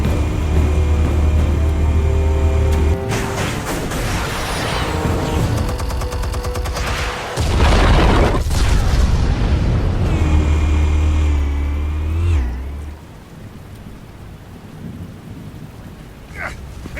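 Massive explosive detonations in Batman: The Telltale Series, with a deep sustained rumble and blasts of debris that roll on for many seconds before abruptly dropping to a quieter aftermath.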